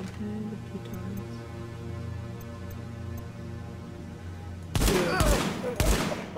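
Bursts of rapid gunfire erupt in the video game Tom Clancy's The Division, a few loud volleys near the end following a stretch of quiet ambient game hum.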